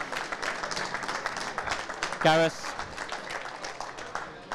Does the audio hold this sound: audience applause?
yes